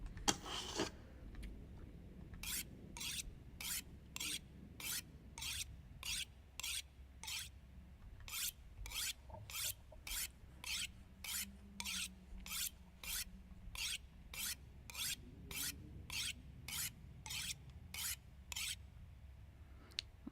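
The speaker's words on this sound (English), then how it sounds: "sharpen it one more time while we wait for dawn" In The Long Dark, a tool is sharpened with steady, even rasping strokes. The strokes repeat at a regular rhythm for about twenty seconds and are clear and close, with no speech.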